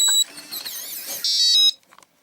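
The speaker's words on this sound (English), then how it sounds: "makes nice little beeps" RVLOCK keyless entry RV door handle beeping on lock: a few close, high electronic beep tones and a warbling chirp, ending with a short mechanical clunk before quiet.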